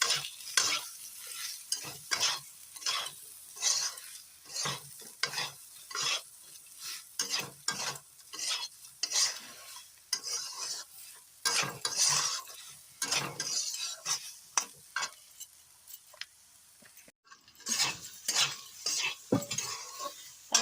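Cumin and spices are stirred and fried in a pan for an Odia sukto dish, with a sizzle under repeated scraping and clinking strokes of a utensil, close and irregular.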